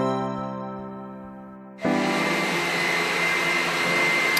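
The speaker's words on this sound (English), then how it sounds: "Now I'm going to sit under the dryer for about 30 minutes to let this dry." A hood hair dryer switches on partway through, its loud, steady broadband roar replacing a quieter humming tone and running on continuously to the end.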